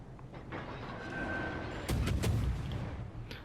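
Destroyer guns firing in World of Warships Legends, a French MN Aigle, give a few sharp gunshot bursts near the middle over steady game ambience, fairly loud and close.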